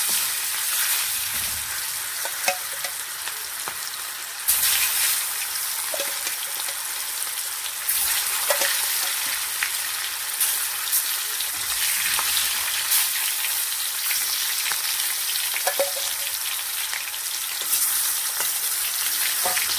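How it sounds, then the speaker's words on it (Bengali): Murli fish coated in salt and turmeric frying in hot oil, a steady, loud, continuous sizzle with occasional pops and crackles throughout, no voices. "তেল গরম হয়ে গেছে, দিয়ে দিচ্ছি। মুরলি মাছটা ভেজে নেব ভালো করে।"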